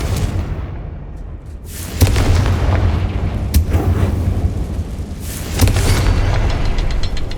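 Confringo fire spell blasts in Hogwarts Legacy, booming impacts that hit around two seconds and again near five and a half seconds, each leaving a sustained roar, loud and close with no speech.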